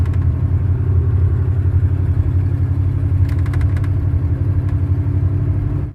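A car drives through a small Florida town, moving from the north end outward, its engine a steady close drone throughout with faint brief rattles partway through and no talking.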